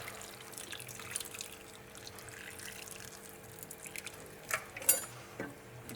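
Water is poured into a pot over a lemon with rosemary and nettle for homemade hairspray, a soft steady trickle and splash building to a few louder sloshes near the end, with no talk.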